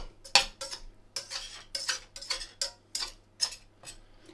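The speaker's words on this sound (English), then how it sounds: "I'm going to mix the onions in with the potatoes" Onions and potatoes get tossed together in a pan, with a utensil scraping and clinking against the metal in a rhythmic series of sharp taps, close and fairly quiet, with no talking.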